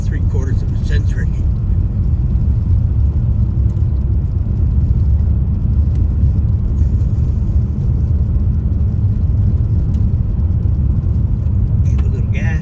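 A car's engine pulling up a hill in Vermont: a steady, loud low rumble of motor and road noise throughout, with no clear rise in pitch.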